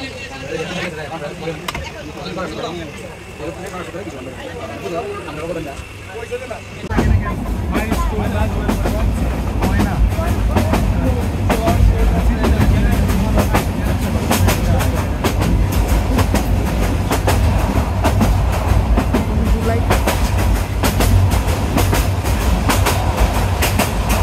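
A train running on rails: after a quieter start with talking, a loud rumble sets in with dense, rhythmic clickety-clack of wheels over track joints, continuing steadily with voices underneath.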